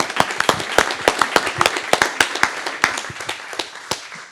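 A live audience claps loudly for Megan at a community event stage show, dense applause with sharp individual claps standing out, sustained and close throughout.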